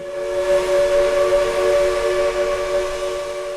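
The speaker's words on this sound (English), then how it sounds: "So when you hear a steam whistle a mile away," A steam train whistle sounds one long, steady, musical chord, fairly distant, holding for several seconds with no voices.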